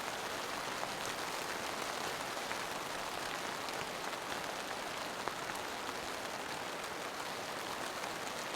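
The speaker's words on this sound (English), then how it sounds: "I don't know if you can see the rain or if you can just hear it." Steady heavy rain drums on a tent and tarp during a winter storm at a campsite, a dense unbroken hiss of drops close by, alone with no talking.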